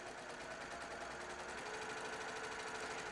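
A sewing machine runs steadily and continuously, stitching a long quarter-inch seam down fabric strips with an even, close mechanical hum and no pauses.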